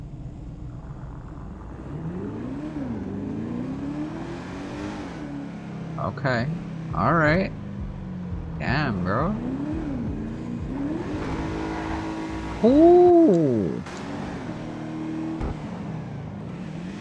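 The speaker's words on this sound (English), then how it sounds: "You can hear that whining that almost sounds like a supercharger going on the V8." Revving supercharged V8 engine of an Albany V-STR car in GTA 5 Online, with a high whine rising and falling in pitch, while someone talks and exclaims over it.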